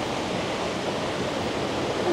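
Río La Plaza, a clear rocky river, rushing in a steady, even hiss of flowing water, close and continuous with no voices.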